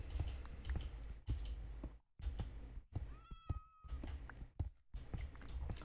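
A cat in the video game Minecraft meows several times in short separate calls, with a brief higher whining tone in the middle, over steady clicking of keys and mouse.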